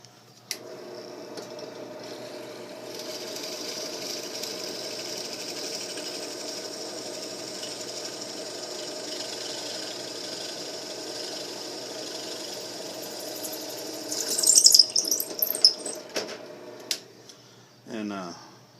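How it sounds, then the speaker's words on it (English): A steady mechanical motor whine runs for most of the clip, like a small drill boring holes in knife handle scales, with a few louder bursts near the end. "Drill this other thong hole"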